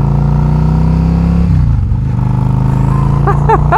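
A heavy Yamaha 1100 cruiser motorcycle of around 600 pounds rumbles close by with a steady, thick engine drone that dips and shifts pitch midway, then settles into a strong running note.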